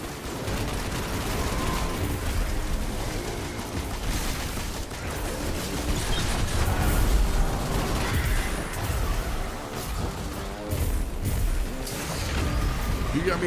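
Relentless crackling explosions and rapid gunfire in a video game Nightfall run, loud and layered with heavy rumble, rattling on without pause.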